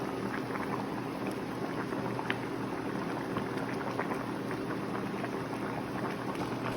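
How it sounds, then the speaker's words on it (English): Chicken asado sauce bubbles and simmers in a pan, a dense, even, continuous burble of small pops heard up close with no talking. "Check out that lovely simmering sauce full of flavor and character."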